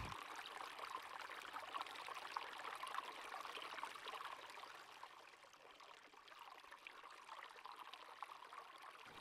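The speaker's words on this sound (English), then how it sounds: "I'm standing next to a bubbling brook in rural Pennsylvania" A small bubbling brook in rural Pennsylvania runs with a soft, continuous trickling and gurgling, steady and fairly faint throughout, with no talk.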